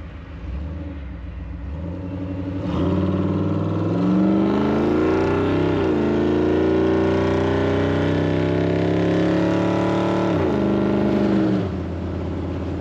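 An old Ford Bronco under repair cruises at highway speed in overdrive, its engine droning steadily and swelling as it accelerates, then settling into a low, even hum heard from inside the cab.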